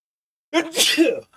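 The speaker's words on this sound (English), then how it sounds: "Gonna sneeze." A single loud, close sneeze with a sharp intake and burst, then silence.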